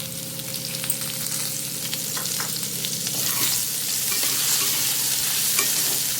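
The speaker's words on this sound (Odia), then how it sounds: "ଆଳୁ ଟିକେ ଭାଜି ହେଇଗଲାଣି, ଆରି ଉପରେ ପିଆଜ ଦେଇଦେବି" Potatoes and onion fry in oil for a fish curry, a dense, loud sizzle with scraping stirs that builds slightly toward the end, close and unbroken, with no talking.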